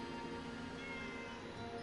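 A cat in the video game Fallout 76, meowing softly and steadily for about two seconds against a flat, faint game background hum.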